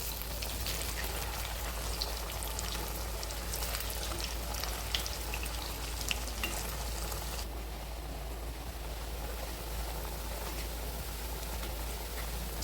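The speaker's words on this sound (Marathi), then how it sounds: "तेल गरम झालेलं आहे. वड्या तळून घेऊयात. बारीक गॅसवर तळून घ्यायचे आहेत." Coriander vadi fry in hot oil over a low flame, giving a dense, steady sizzle with fine crackling pops. The sound is close and continuous, and no one speaks.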